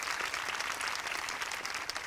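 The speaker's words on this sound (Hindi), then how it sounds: "सब तालियां बजाएं" Audience applause at a grand welcome event in Gwalior, a dense steady wash of many hands clapping throughout without pause, fairly loud and even, with no speech over it.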